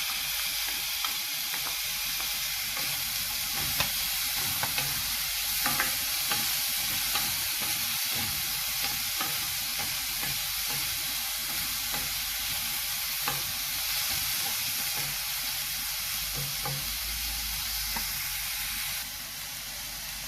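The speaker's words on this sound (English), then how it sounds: "Now we will add the mixed vegetable and the sweet corn." Mixed vegetables and sweet corn fry in a pan for cheese corn poha, giving a continuous soft sizzle and hiss. Gentle stirring scrapes run through it at a steady, low level, with no talking.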